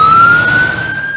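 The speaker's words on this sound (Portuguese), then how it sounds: "Um som pode ser bem longo, como a sirene de uma ambulância" An ambulance siren holds a single loud, steady wailing tone that creeps slightly upward in pitch, with no voices.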